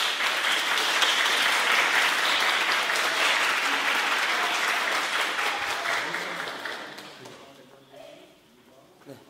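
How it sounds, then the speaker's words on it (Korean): Sustained audience applause in a hall during a preview event for a provincial dance company, loud and dense for several seconds before fading out. "박수 한번 쳐주세요."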